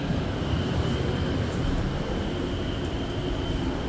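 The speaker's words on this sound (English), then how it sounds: "Like I said, it's nighttime, so you may not see a whole lot, but it is a train ride." Interior of an Exo commuter train at night, a steady low rumble and wheel-on-rail roar filling the carriage, continuous and close, with faint higher squeals now and then and no talking.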